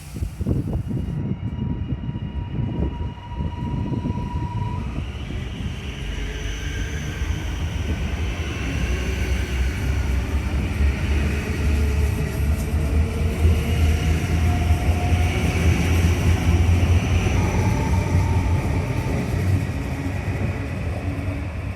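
An HCMT train departing in Melbourne's Metro Tunnel, a continuous low rumbling roar with rising whining motor tones and faint tonal squeals as it pulls away, sustained and fairly loud, no voices.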